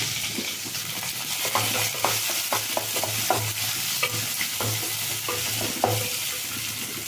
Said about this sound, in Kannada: ಈಗ ಕ್ಯಾಪ್ಸಿಕಮ್ ಹಾಕ್ತಾಯಿದ್ದೀನಿ.